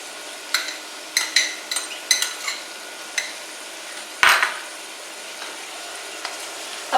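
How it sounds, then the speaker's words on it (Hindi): Ginger garlic paste frying in about one and a half tablespoons of oil for a white chicken karahi, giving a steady sizzle broken by a series of sharp metallic clinks and scrapes of a spoon against the pan. "अब 1 से 2 मिनट तक इसे भून लेते हैं अदरक लहसुन पेस्ट को"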